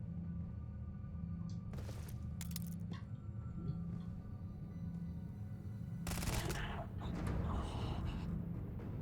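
Gunfire in the video game Starfield, modded playthrough: a few scattered sharp shots early on, then a denser cluster of bursts, heard over a steady low background drone.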